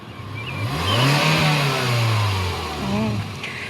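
A 2015 Hyundai Elantra GL sedan's 1.8L four-cylinder engine revs up from idle, climbing and holding a raised pitch, easing down, then rising in a second smaller rev before settling, close by and moderately loud.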